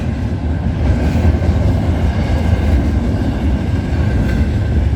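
CN freight train Z149 starting off at night, a steady loud rumble of locomotive engines and rolling wagons, continuous and close, with no voices.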